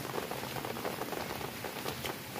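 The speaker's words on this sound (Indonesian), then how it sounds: "Hujannya datang lagi" Heavy rain falls steadily, a dense, even hiss and patter of drops hitting surfaces close by, with no voices.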